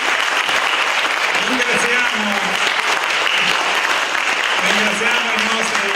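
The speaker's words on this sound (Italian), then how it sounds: "un applauso anche alla produzione" Audience applause for the production team at an Italian presentation event, a dense steady clapping that fills the whole stretch while someone speaks over it.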